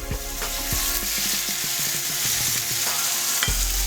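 Shrimp sizzle and crackle in a hot pan, a dense steady hiss with scattered pops and occasional scraping stirs.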